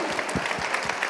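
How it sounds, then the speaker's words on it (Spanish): An audience at a fashion runway awards event in Castilla y León gives brief, steady applause of many hands clapping close by. "Un fuerte aplauso para Esther Noriega."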